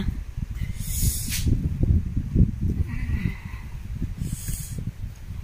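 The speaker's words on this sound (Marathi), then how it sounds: "किती हवा आणि किती वारा आहे." Strong gusting wind roars against a microphone outdoors near a cottage in the morning, a dense rumbling buffet that swells and surges continuously, with brief hissy bursts rising over it.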